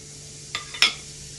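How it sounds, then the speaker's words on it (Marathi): Cumin seeds hit hot oil in a pan while matar paneer is being cooked, giving two quick, close sizzling crackles over a faint steady hiss. "आता तेल छान गरम झालेलं आहे. त्याच्यामध्ये थोडंसं जिरं टाकून घेते."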